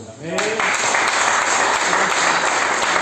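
A church congregation breaks into loud, sustained applause that fills the room, with a voice audible over the clapping.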